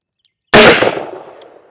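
A single .44 Magnum gunshot: one sharp, very loud close blast after silence, with a decaying rumble trailing off over about a second.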